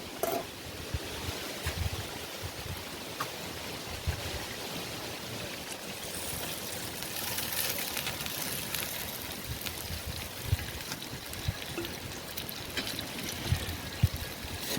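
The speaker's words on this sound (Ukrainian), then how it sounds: "потрібно сюди додати трохи води." Steady watery pouring and trickling, broadband and continuous for the whole stretch, with small splashy bumps, close by and moderately quiet.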